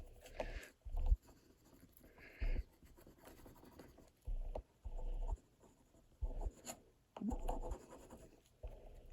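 A bone folder rubbed firmly over a rub-on transfer on a junk journal page made from a chip bag, giving close, faint scratchy strokes in short repeated bursts with brief pauses between.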